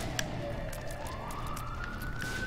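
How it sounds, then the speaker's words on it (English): Outdoor emergency sirens wail at a moderate distance, one tone gliding slowly upward over a low background rumble, with faint clicks scattered throughout and no voices. "Always sirens going on."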